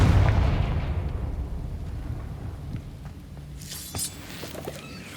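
A Confringo blasting spell goes off in Hogwarts Legacy with a loud, deep boom at the start that rumbles and slowly fades, followed by a few small crackles and a brief sharp pop near the end.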